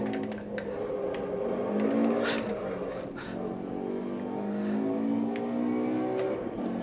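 An old Mercedes 190E racing at Bathurst in Assetto Corsa Evo, its engine droning steadily close up with rising and falling pitch through gear changes, and a few sharp ticks along the way.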